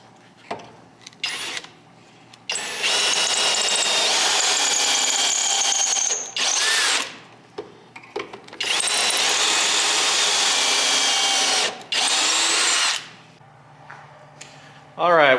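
A power drill whines in several long, steady bursts while boring pocket holes in redwood for a live edge table, with short pauses, clicks and brief talk between runs.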